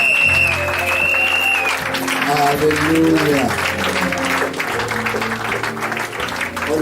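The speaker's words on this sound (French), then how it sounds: "Vous pouvez applaudir plus fort." Congregation applause at a church gathering, dense clapping under loud music with sustained tones and a voice calling out over it.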